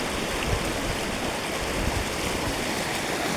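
A rushing rain-fed stream in hill country near Badlapur pours steadily, a broad continuous wash of water close by with no talk.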